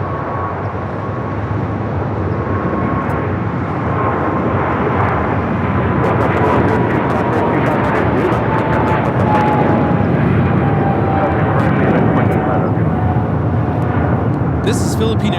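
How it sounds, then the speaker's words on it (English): A Philippine Airlines Boeing 777-300ER, flight 113 bound for Manila, takes off from LAX with a loud, sustained jet engine roar and a slowly falling whine that fills the whole stretch. "This is Philippine Airlines 113 taking off to Manila on the 777-300ER at Mabuhay."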